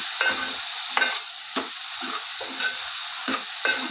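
Bottle gourd pieces being stirred with chili powder and salt in hot oil for a tamarind stew: repeated scraping stir strokes, about one every half second, over a steady close sizzle, with no voices.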